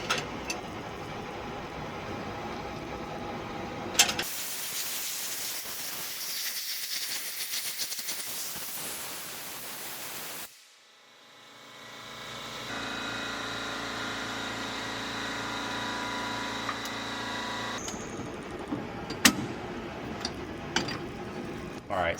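An ASNU ultrasonic bath cleans fuel injectors while pulsing them, giving a steady hiss and hum that stops briefly midway before resuming with intermittent clicks, with no speech.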